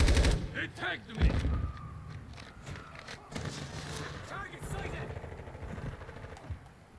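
Rapid gunfire and explosions from Call of Duty 2 multiplayer play out in dense, loud bursts with footsteps, while game voices and a player talk over the action throughout.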